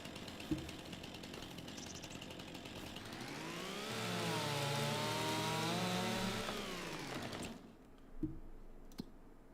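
A chainsaw in the Farming Simulator 25 video game revs up and cuts through a tree, a loud sustained buzzing whine for several seconds that then drops away to quiet.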